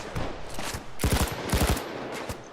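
The Brenner light machine gun in Payday 2 fires in short rapid bursts of close, punchy shots, with brief gaps between volleys.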